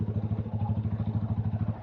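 A motorcycle labours up a steep dirt road in Minalungao Nature Park, Nueva Ecija. Its engine throbs in a steady, rapid low pulse with a rattly clatter, close and continuous, with no talk.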